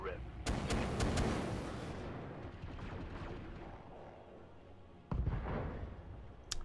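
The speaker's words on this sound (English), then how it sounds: "And there goes another machine gun ammo explosion." Machine gun ammunition cooking off in the mech combat video game BattleTech: a loud rumbling burst of explosions with rapid crackling pops, fading into a sustained roar, then a second sharp blast near the end.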